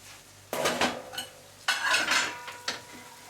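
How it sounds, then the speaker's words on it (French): Tomato being crushed in a pan for chouchouka, with a utensil scraping and clinking against the pan in a few separate bursts and short scrapes between pauses, close up. "Toujours bien écraser cette tomate, sinon"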